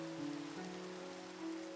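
Rain falling in a video game makes a steady, soft hiss beneath sustained tonal background music, continuous and even with no speech.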